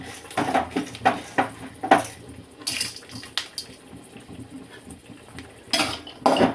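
A spatula clinks and scrapes against a pan as chana dal is stirred while frying, with sharp metallic taps in an uneven rhythm and a low, faint sizzle underneath.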